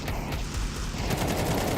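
Rapid automatic gunfire sprays through walls in a Valorant esports match, a dense unbroken burst of shots that holds at steady loudness for the whole stretch.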